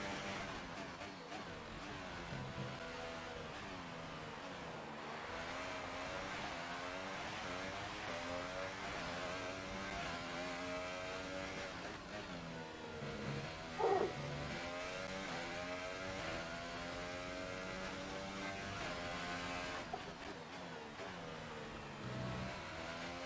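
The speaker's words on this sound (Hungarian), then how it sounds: "Már recseg a motor." Force India Formula 1 car engine in the F1 2018 racing game at Montreal, Canada, droning steadily with rising and falling revs as it shifts through gears, fairly faint and continuous, with a brief louder blip midway.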